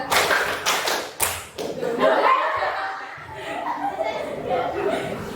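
In the tepuk senja clapping game, a few sharp claps from a group of children come first, then give way to laughter and lively chatter with occasional light taps.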